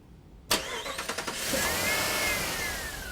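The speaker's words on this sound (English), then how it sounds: "Then we'll start the engine and run it for about 15 minutes." A car engine cranks with a quick series of bursts, catches, and settles into a steady running hum with a faint whine rising over it.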